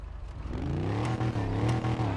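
A Mercedes-Benz GT63 S AMG BRABUS Edition engine in a driving game revs up and holds a loud, steady growl with rising and falling pitch, close and alone without talk.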